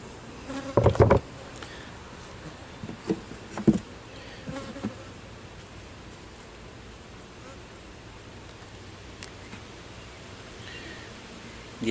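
Honey bees buzzing at an open hive during a frame inspection, a steady soft hum throughout, with a few louder handling knocks near the start.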